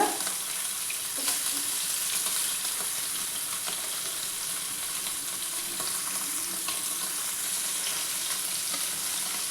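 Fish pieces frying in oil on a stove over low to medium flame, giving a steady, dense crackling sizzle that holds evenly throughout with no talking.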